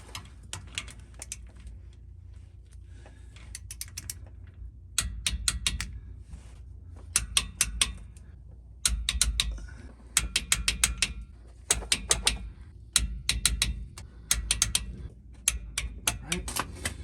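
A torque wrench tightens the rear differential cover bolts on a Chevy Silverado 9.5 rear end to 20 foot-pounds in a star pattern. It gives repeated bursts of crisp, close ratcheting clicks separated by short pauses.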